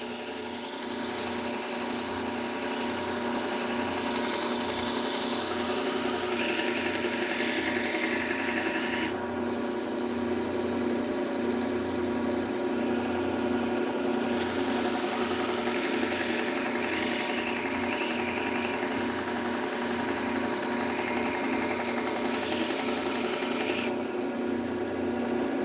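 A serrated Calphalon kitchen knife is drawn edge-trailing across a 600 grit sharpening stone, producing continuous close, loud rasping and rubbing strokes that repeat with brief changes in tone throughout.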